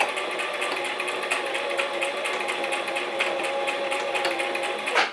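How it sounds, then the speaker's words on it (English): A sewing machine stitches back and forth across a fabric face mask, a steady close whirring run that holds at an even level for about five seconds and stops at the end. "I'm just going to sew back and forth about half an inch."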